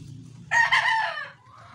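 A young game rooster, a stag kept in a fly pen, crows once close by, a loud strained call lasting under a second over faint low background noise.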